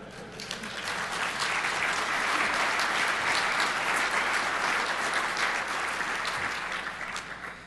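A conference audience at a DEFCON hacking talk bursts into sustained applause, dense and steady clapping from many hands that swells and holds for several seconds before easing slightly, with no speech over it.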